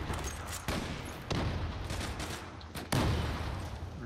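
Sniper rifle gunfire in the online shooter Zula, sharp broadband cracks at roughly 0.7, 1.3 and 2.9 seconds standing out over a dense, noisy game mix with continuous background action.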